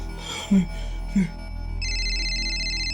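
A phone ringtone sounds indoors, a steady repeating electronic ring that starts partway through and continues to the end, following a couple of brief thuds.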